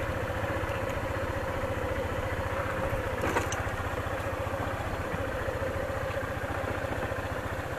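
Honda ADV 150 scooter engine idling close by, a steady low putter with a faint clatter, even and continuous throughout.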